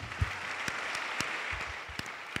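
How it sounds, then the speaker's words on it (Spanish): A crowd at a peace manifesto presentation applauds a fellow speaker, with steady, full clapping throughout and a few sharper individual claps standing out near the microphone. "Yo pido un aplauso para el compañero"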